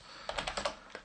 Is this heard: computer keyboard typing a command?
yes